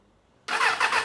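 A Suzuki Bandit cafe racer motorcycle engine suddenly catches after silence, bursting into a loud, rough, pulsing start attempt that sputters unevenly for the rest of the moment, close and with no talk.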